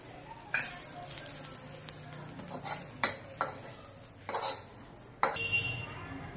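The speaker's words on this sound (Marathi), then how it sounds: "आता खोबरं, तीळ आणि मिरे आणि लवंग ते भाजून घेऊया." Coconut, sesame seeds, black pepper and cloves being dry-roasted in a pan, with a soft steady sizzle under repeated scraping stirs and clinks of a spoon against the metal, close and fairly loud, without talk.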